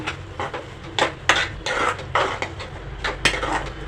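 A spoon stirs and mashes roasted eggplant bharta with fresh coriander in a pot, giving a series of irregular close knocks and scrapes against the vessel.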